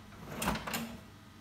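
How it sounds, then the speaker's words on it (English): A POS cash drawer slides open with a brief mechanical clunk and rattle, close and moderately loud in a quiet room. "open the cash drawer"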